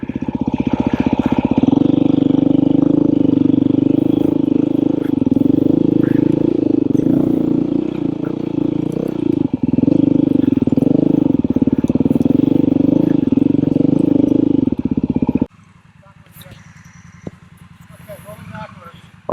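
Heavy off-road motorcycles, Beta, KTM and Honda dirt bikes, climb hills with a loud, close, continuous engine drone that cuts off abruptly, leaving quieter ambient noise.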